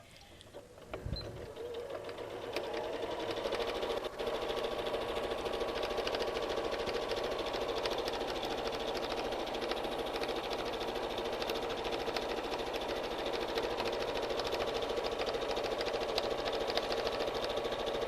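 A sewing machine stitches a straight seam on a baby burp rag, a steady rapid mechanical whir with fine rhythmic clatter running continuously after a brief start, close and moderately loud, with no talking.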